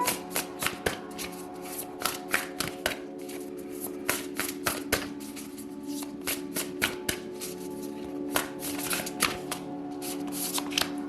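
Tarot cards being drawn and shuffled by hand, a close, continuous riffling and flicking of cards with frequent sharp snaps in an irregular rhythm.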